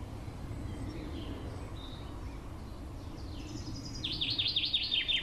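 European robin singing a bright, high, trilling phrase that grows louder toward the end, rising over a steady low outdoor rumble with faint other bird calls.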